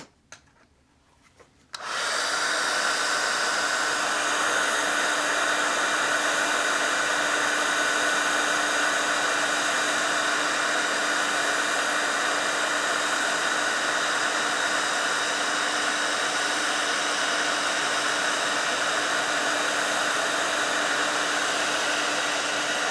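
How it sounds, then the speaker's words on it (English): A handheld craft heat tool blows hot air for watercolor and distress ink work, kicking on after a brief quiet moment into a steady, loud, close rushing hiss that holds unchanged to the end. "Okay, this is my heat tool."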